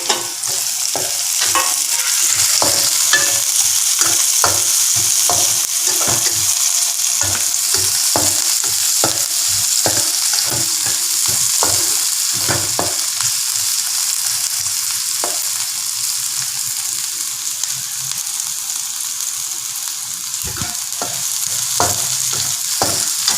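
Chilies fry in a pan for soy sauce chicken: a loud, continuous sizzle with repeated stirring scrapes and taps, close up and without talk.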